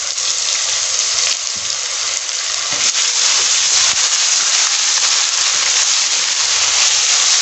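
Garlic ginger paste frying in hot oil for a mixed vegetable curry of potato, peas, carrot and fenugreek, giving a loud, steady, close sizzle that holds evenly throughout with no talk.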